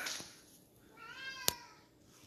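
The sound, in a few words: cat meowing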